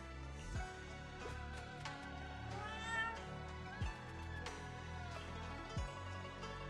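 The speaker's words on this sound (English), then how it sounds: "Oh, it's the cat from before." A cat in the video game Zenless Zone Zero gives a few short meows over a continuous music score with soft, repeated low thumps.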